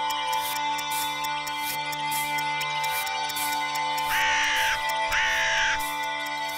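Several crows caw in a Postman Pat cartoon, two drawn-out harsh calls standing out near the end over a busy bed of repeated tapping and a constant tonal hum, with no speech.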